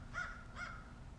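A crow caws twice outdoors on a bright day, two evenly spaced calls at moderate distance over a low steady background rumble.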